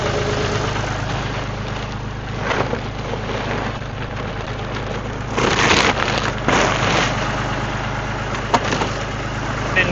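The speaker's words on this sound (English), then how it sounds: "while the tractor's warming up," A ranch tractor idles while warming up, a steady low engine rumble running throughout, with wind buffeting the microphone in a few gusty bursts.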